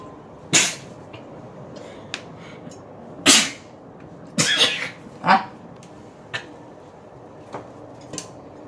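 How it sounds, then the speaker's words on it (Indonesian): Several sharp sneezes break out at irregular intervals in a kitchen during cooking of a Hong Kong-style chicken dish. The sneezes are fairly close and distinct, with faint clinks and rustles between them. "saya bersin-bersin teman-teman"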